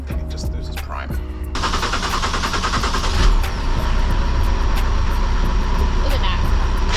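A boat's port side engine, which had been losing prime, cranks briefly and then catches after about a second and a half, settling into a loud, steady, close-up rumbling clatter that runs to the end.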